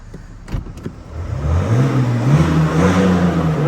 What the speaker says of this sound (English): I'll get you to hear that quad turbo as well in a second.